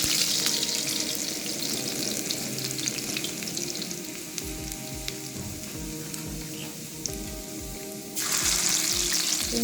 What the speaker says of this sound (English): Going to put in some garlic, the oil,